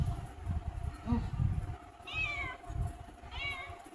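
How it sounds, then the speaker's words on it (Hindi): Two drawn-out cat meows rise and fall close by, with a pause between them, over a low background rumble of indoor noise. "बिल्लियाँ बहुत तंग करती हैं"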